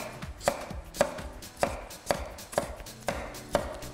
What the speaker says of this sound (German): Und den Spargel nun einfach längs